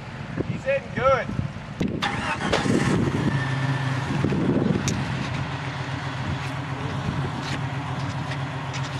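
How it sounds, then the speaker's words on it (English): A pickup truck on an off-road trail cranks and catches, the engine starting with a rising burst and then settling into a steady idle, with people talking nearby. "why don't you start your truck?"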